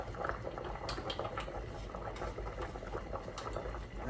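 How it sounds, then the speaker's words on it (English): Chicken stock bubbles toward a boil in a pan for shrimp pasta, giving a close, steady simmering patter with small pops throughout. "I'm going to add some chicken stock here. I'm going to turn it up just a little bit. Let it come to a boil"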